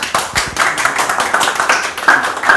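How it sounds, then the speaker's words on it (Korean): Seminar audience clapping loudly and close, a brisk, dense run of crisp handclaps from many people with no talk over it. "박수 소리가 큰 만큼 복 많이 받으시기 바랍니다."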